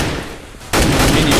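Dense bursts of gunfire in a competitive team shooter match, with a quieter stretch of shots giving way to a loud, sustained barrage of rapid fire with no voices.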